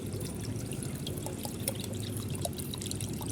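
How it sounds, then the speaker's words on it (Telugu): Water pours and splashes steadily from a pot into an air cooler, with small drips and trickles, fairly quiet and close, no voices. "నీళ్ళైతే పడుతున్నాయి చూడుర్రి"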